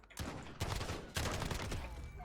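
A submachine gun in Call of Duty fires single shots, three sharp separate cracks about half a second apart, each followed by a short ringing tail.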